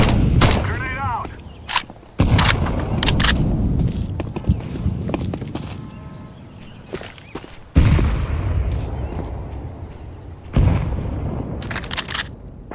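Counter-Strike 2 match with sharp bursts of gunfire, a grenade thrown and a loud blast, separated by quieter stretches with footsteps and a voice talking.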